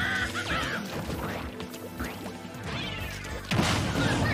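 A splat bomb bursts in a Super Smash Bros match, landing as a sharp wet crash near the end after swooshing game effects and crowd noise.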